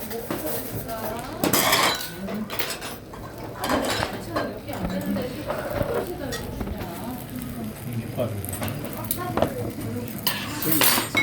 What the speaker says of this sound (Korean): 그릇이 너무 요란하다